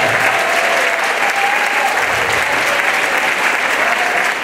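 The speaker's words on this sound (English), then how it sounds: "Let's give him a big round of applause." Sustained audience applause at an NAACP Freedom Fund luncheon and award ceremony, loud and steady clapping from a large crowd throughout, with faint voices mixed underneath.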